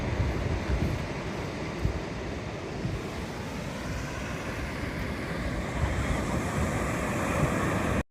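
Sea waves wash onto the beach at sunset in a continuous, close surf roar, with wind buffeting the microphone and no talking.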